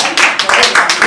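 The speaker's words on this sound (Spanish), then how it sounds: "nuevamente un aplauso a todos ustedes" A Spanish-language lecture audience bursts into applause, a loud dense patter of many hands clapping close by, swelling in several waves over a short stretch.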